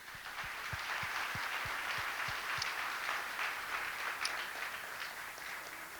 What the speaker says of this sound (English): hey, big applause for Matthew.